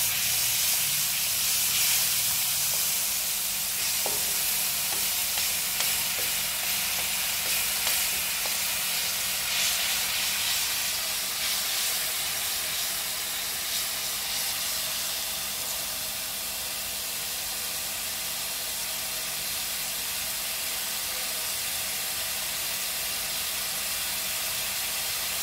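Masala frying in a pan over a high gas flame for chana chaat, a steady broadband sizzle and hiss running throughout with a few faint utensil taps early on.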